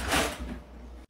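A sticking kitchen drawer scrapes open in one short, rough slide, loudest at the start and fading before a brief bump at the end.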